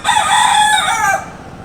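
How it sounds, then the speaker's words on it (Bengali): A rooster crows once on a rooftop garden, a loud, close, drawn-out cock-a-doodle-doo lasting over a second before fading into quiet. "মোরগ ডাকছে।"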